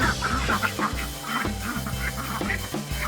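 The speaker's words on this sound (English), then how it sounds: "Little duck." A little farm duck quacks in a quick run of short, nasal calls, near and fairly loud, with soft background farmyard noise.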